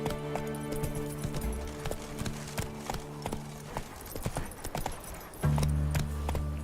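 Geralt's horse Roach gallops in The Witcher 3 on PC, its hooves clip-clopping in a steady rhythm over game music and ambience. A louder low rumble joins near the end.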